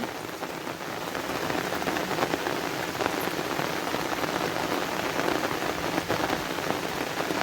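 Heavy rain pours steadily onto surfaces during a flood, a dense, continuous near wash of drops with no talk.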